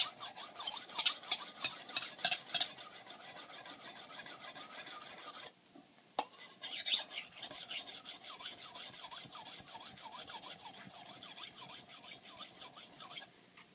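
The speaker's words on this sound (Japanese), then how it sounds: "このように茶碗のこの裏側で研げますんで" Steady, rhythmic scraping of a kitchen knife rubbed back and forth on the rough unglazed bottom of a ceramic bowl, close and fairly loud, with a brief pause midway before the strokes resume.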